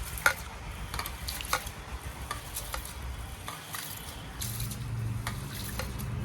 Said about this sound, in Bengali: এখন আমি চালটা ভালো করে চটকে চটকে পরিষ্কার করে ধুয়ে নেব